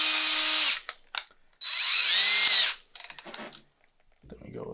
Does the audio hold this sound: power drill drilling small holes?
yes